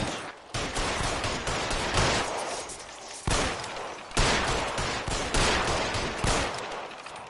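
Repeated heavy gunfire bursts in the crime game L.A. Noire, loud sharp volleys recurring every second or so amid echoing shootout noise, with no talk.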